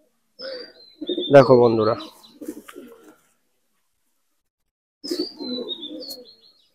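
Malwai pigeons coo and flutter close by in short bursts separated by a quiet gap, while someone speaks briefly over the birds.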